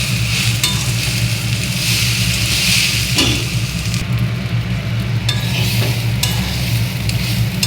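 Rice, dal and vegetables fry in a pan with ground ginger-cumin paste, giving a steady, loud sizzle with a low hum beneath and occasional scrapes from stirring throughout.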